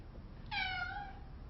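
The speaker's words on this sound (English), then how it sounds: "And then my cat was meowing" A domestic cat gives a single clear meow indoors, a short rising-then-falling call of about half a second over a quiet room background.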